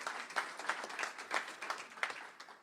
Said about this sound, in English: I think we can give her a stronger applause